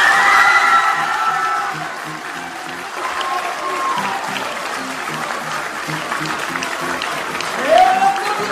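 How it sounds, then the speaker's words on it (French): An audience at a youth eloquence contest claps for a second-prize winner named Romain. The applause is steady and moderately loud, with scattered cheers and a voice speaking over it. "Et on applaudit Romain."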